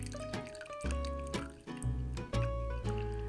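Absinthe poured slowly over a sugar cube resting on an absinthe spoon, a quiet close-up trickle and series of soft drips and splashes with uneven rhythm, alongside faint background music.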